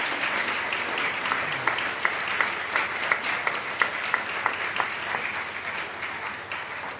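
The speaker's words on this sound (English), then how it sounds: "Can we get a round of applause, please, for all the candidates who put their names forward to the vote?" An audience on student elections results night applauds the candidates with steady, moderately loud clapping. A few crisp, distinct claps stand out from the crowd, and the applause eases off slightly near the end.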